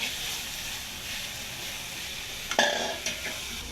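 Greens fry in hot mustard oil in a pan, a soft, steady sizzle and hiss at close range, with a few sharp clinks of a utensil stirring against the pan near the end.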